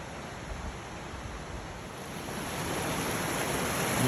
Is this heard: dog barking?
no